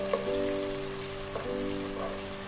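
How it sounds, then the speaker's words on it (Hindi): Chopped tomatoes frying with onions in a pan for shahi daal give off a continuous soft sizzle and crackle, steady and close, with a few faint clinks and no voices. "टमाटरों को अच्छी तरह से 5 मिनट तक भूनेंगे ताकि ये अच्छी तरह से सॉफ्ट हो जाए।"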